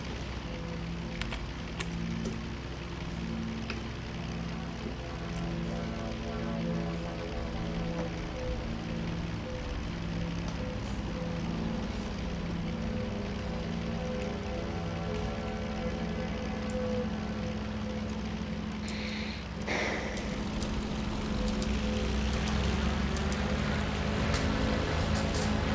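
An Il-2 aircraft engine roars steadily at takeoff in a flight simulator game, a dense, continuous drone with harmonic tones shifting in pitch as power changes, plus a brief clunk partway through and a slight swell near the end.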